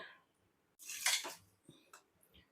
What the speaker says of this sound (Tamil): நல்லா மிக்ஸ் பண்ணிட்டு இருக்கேங்க